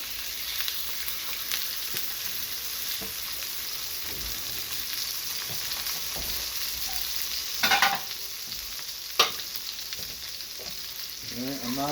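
A Vermont-raised wagyu burger patty frying in its own fat without oil gives a constant close crackling sizzle, with a couple of brief louder spatters or knocks late on and no speech.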